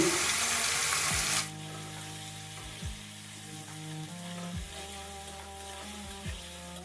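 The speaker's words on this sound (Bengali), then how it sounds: "এবার আমি কেটে রাখা আলুগুলোকেও ভেজে নেব।" Cut potatoes fry in hot mustard oil with a loud, bright sizzle for the first second or so. The frying then settles into a softer crackle with a few clinks of stirring, with no talking.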